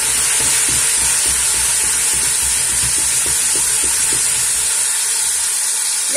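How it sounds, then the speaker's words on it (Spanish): Wine poured into a hot pot while cooking Córdoba-style baked pork knuckle gives a loud, steady sizzle and hiss that runs throughout, with faint low clatter underneath. "Vamos a agregarle el vino."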